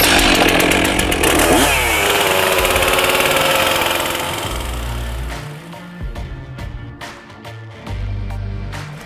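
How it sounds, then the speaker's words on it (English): A chainsaw roars loud and close, biting into soft, punky rotten wood, then drops back to a rough idle with bursts of revving near the end. "I'm just gonna take the chainsaw and I'm just gonna kind of follow down through this soft punky area."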